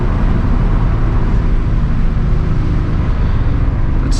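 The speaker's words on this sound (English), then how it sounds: "Cool little roundabout, get some downshifts in." A stock Nissan 350Z downshifts on wet backroads at a small roundabout, its engine droning loud and close from inside the cabin with a steady rumbling low tone throughout.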